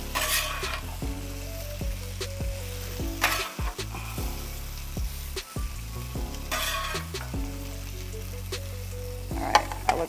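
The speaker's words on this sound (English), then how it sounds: "Avocado oil, we're gonna throw this rice on here. Day old rice." Day-old rice fries in avocado oil in a hot pan, sizzling steadily throughout while a utensil stirs and scrapes it at intervals, close and fairly loud, with no talking.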